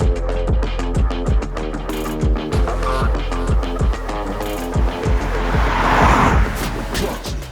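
A Cupra Formentor 1.5 TSI is driven, its engine note swelling and dropping in repeated pulses, with loud rhythmic thumping and a rising rush of wind and road noise near the end.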